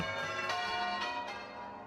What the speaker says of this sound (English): the church bells rang in celebration.